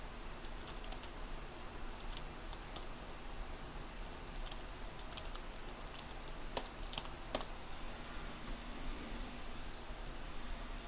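Keys clatter on a computer terminal keyboard in quick, irregular bursts of typing, fairly faint under a steady hiss, with a couple of sharper clicks near the end.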